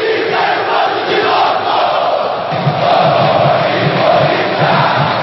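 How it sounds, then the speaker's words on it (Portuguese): Football supporters at a 2007 Brazilian league match between Vasco and Corinthians sing and chant together, a loud, sustained roar of massed voices with a rhythmic pulse filling the stadium. "Mas a torcida ainda acredita e não para de cantar."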